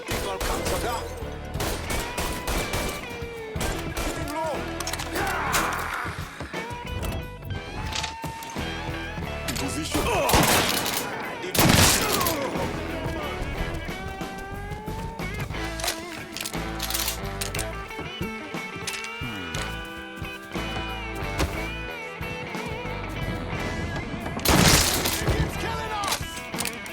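Gunfire crackles through a Mafia III game scene, with bursts of shots and sharp crashes woven into a dense mix of music and shouted voices, peaking loudly near eleven and twenty-five seconds.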